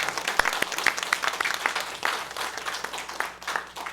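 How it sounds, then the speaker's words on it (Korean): A congregation claps together during an Easter Sunday church service, producing a dense run of sharp, fairly soft handclaps that swell and fade in waves over several seconds. "우리 다시 한번 큰 박수 해주시기 바랍니다"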